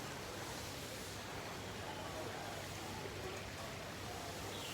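Steady broadband splashing of a waterfall by a koi pond, a constant close rushing wash with no pauses or voices.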